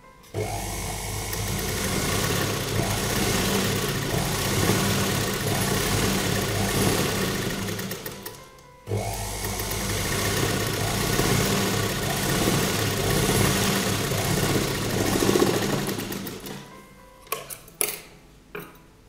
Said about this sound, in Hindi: और अब हम यहाँ किनारे सिलाई लगा लेंगे।